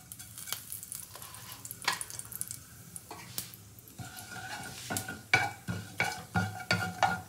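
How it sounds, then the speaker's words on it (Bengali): Cumin seeds hit hot mustard oil in a pan and crackle in quick, sharp pops over a low sizzle. The popping grows louder and more frequent toward the end, with a few light clinks of a utensil. "এবার আমি একটু জিরে ফোড়ন দেবো।"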